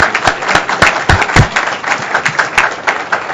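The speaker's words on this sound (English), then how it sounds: "let's give him a round of applause" An audience at a commission meeting claps in a dense, even round of applause that runs throughout. The applause is close and fairly loud.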